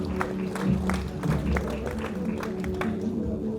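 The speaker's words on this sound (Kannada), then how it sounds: "ಒಂದು ಜೋರಾದ ಚಪ್ಪಾಳೆ ಬರಲಿ." An audience claps at an award ceremony held for Kannada Rajyotsava in Kassia, making a steady wash of applause that rises and falls slightly over a low hall hum.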